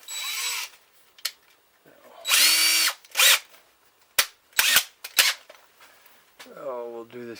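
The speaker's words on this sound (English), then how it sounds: "So what I'm going to do is just drill it and tap it" Power drill boring into a dust collection gate valve for a 6-32 screw, short close bursts of whining drilling broken by pauses, clicks and handling noises, with a voice speaking briefly near the end.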